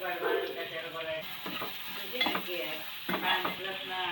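Onion frying in a pan over already-added chilies, a bright close sizzle with periodic stirring scrapes that swell and fade in bursts, no speech.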